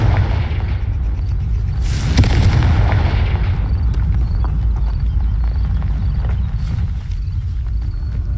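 A loud, booming Confringo spell blast from a video game erupts with a rumbling roar, followed by a sustained, heavy low-frequency rumble and scattered crackling debris.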